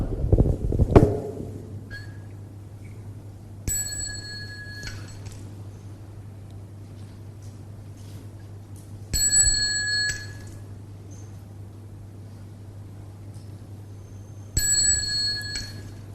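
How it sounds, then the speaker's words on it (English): A bell rings three separate times at spaced intervals to signal bowing during a Buddhist gathering, each strike bright and lingering, over a low steady hum with no speech. "following the ring of the bell"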